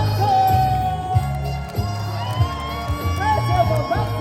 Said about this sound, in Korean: 다시 한번 박수와 함성!